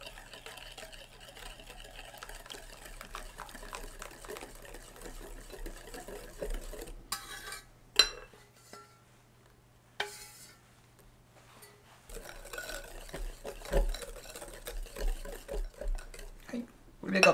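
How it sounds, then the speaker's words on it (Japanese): A spoon stirs melted chocolate in a pot while gâteau au chocolat batter is made: soft, quiet scraping and swishing over a steady low hum, with brief pauses and one short knock. "チョコレートを入れた鍋ですね、こちら少し混ぜてあげると、混ぜすぎる完全に乳化させる必要はないので、チョコレートの溶け残りがないかだけ混ぜながらですね"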